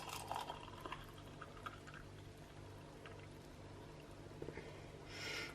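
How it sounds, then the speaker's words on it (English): Coconut panna cotta mixture pours into a glass, a faint, soft liquid trickle heard close over a low background hum, with a brief brighter splash near the end. "I'm just going to pour it out into the glass."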